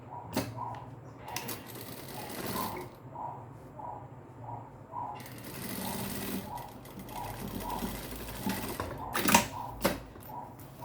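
A sewing machine runs in short bursts, stitching the side seam of a mini backpack. Its rapid mechanical rattle stops and starts between pauses, close and moderately loud.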